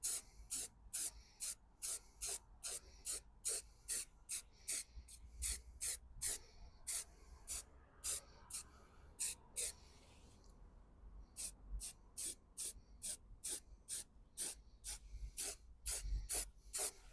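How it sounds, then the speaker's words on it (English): Short bursts of grey primer sprayed from a can onto a car body panel, about two dozen quick rhythmic hisses with brief gaps and a longer pause midway, close and fairly loud. "So we're going to put some grey primer on."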